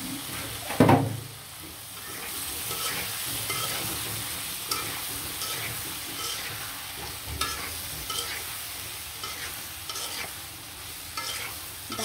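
Ridge gourd being stirred into a spice masala of turmeric, chili, salt and coriander powder frying in a pan, with a sharp clatter near the start and then a steady close sizzle with soft stirring scrapes, no voices.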